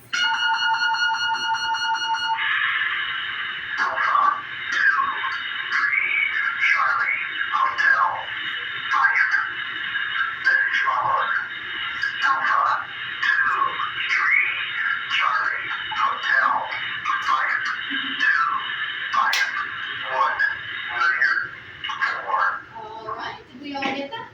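A loud electronic beeping tone sounds briefly, then a long stretch of warbling, chirping radio-style tones and bursts continues steadily, with no speech: an emergency action message signal at a Titan missile base.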